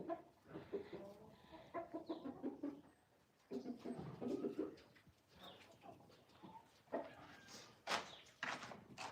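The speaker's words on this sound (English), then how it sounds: "the chickens are here" Free-ranging chickens, some of them naked-neck birds, cluck and murmur nearby in quiet, irregular bursts, with soft, scattered calls and pauses, fairly faint overall.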